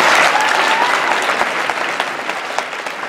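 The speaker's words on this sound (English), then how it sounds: "let's give Dr. Funk one more round of applause" An audience gives a round of applause after a Christian discourse lecture, a full burst of clapping that starts loud and slowly thins out over a few seconds.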